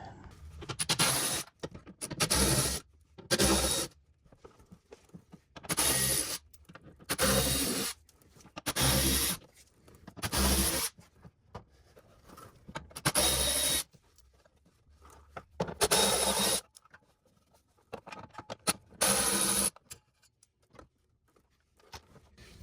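Repeated bursts of scraping, ratcheting tool noise as 8mm screws are removed from the underbody panel of a BMW M3/M4, each lasting a second or so with short pauses between, close by and fairly loud, no talking.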